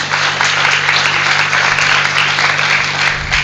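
A church congregation breaks into applause during a sermon, a full, even patter of many hands clapping with a low steady hum beneath it throughout.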